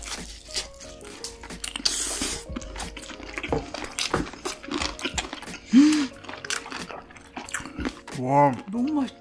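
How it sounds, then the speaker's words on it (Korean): Homemade honey combo fried chicken being chewed up close, with crisp crunchy bites and wet mouth sounds repeating steadily over several seconds, a voice briefly humming near the end. "다음은 직접 만든 허니콤보 먹을게요"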